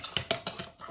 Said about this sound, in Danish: Så det rører vi så lige ud